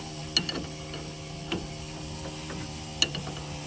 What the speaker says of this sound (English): So we'll just torque this guy down.